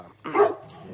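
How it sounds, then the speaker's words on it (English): A single dog bark, close and fairly loud, rising briefly from a quiet indoor background. "Lulu, that's my dog."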